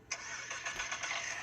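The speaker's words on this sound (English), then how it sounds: "we're going to start the car." A car engine cranks over and catches, then keeps running with a steady, fairly loud mid-pitched rumble.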